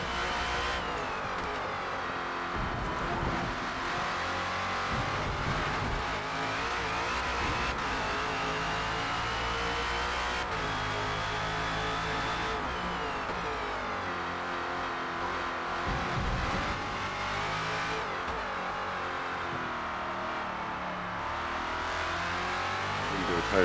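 The race engine of a #17 Ford Falcon FG X in Forza Motorsport at Road Atlanta drones continuously through a lap, rising and falling in pitch with gear changes and throttle, loud and steady throughout.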